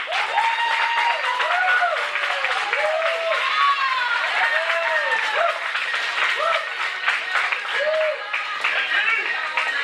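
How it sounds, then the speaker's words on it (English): A comedy club audience at The Q applauding as a comedian is introduced, with sustained clapping mixed with whoops and cheering voices throughout. "Put your hands together. Make some noise."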